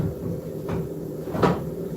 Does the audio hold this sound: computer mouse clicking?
no